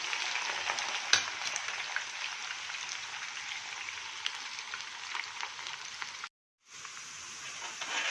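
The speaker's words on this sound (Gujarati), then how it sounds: "તેલમાં કારેલા અને બટેટા ઉમેરી દઈએ. એને આપણે બ્રાઉન કલરના થાય ત્યાં સુધી આપણે તળી લઈશું." Bitter gourd and potatoes frying in hot oil in a pan, a steady, soft crackling sizzle that runs throughout with a brief cut near the end.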